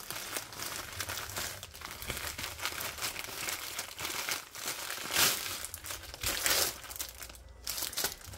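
Bubble wrap crinkles and crackles steadily as it is pulled off a wrapped diamond-painting clock canvas, with close, busy rustling throughout and a few louder bursts near the end.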